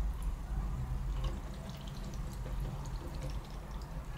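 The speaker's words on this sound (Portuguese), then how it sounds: "Coloco aqui embaixo da torneira. Eu vou esfregar bem em cima da mancha." Tap water runs steadily from a faucet while a paint stain is scrubbed under it, a continuous wash of splashing with faint drips, fairly close and alone with no talk.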